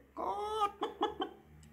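A hen clucks during a French children's story hour, a short drawn-out squawk followed by three quick clucks, fairly close and heard alone.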